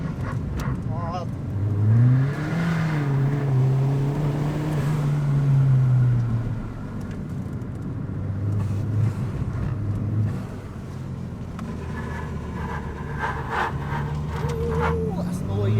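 Ford Fiesta ST180 engine droning and revving at a track day, heard from inside the car, steady loud engine tone rising and falling with road noise while people talk over it.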